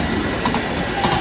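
A train rolls through Roermond station in the Netherlands, a dense, steady rumble of wheels on rails with faint squeals, close and continuous, with no voices.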